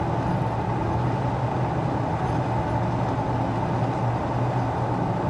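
A 1998 Chevrolet K1500 4x4 short-bed pickup drives along a bumpy road, its engine and road rumble a steady, loud, continuous drone from inside the cab, with no talking.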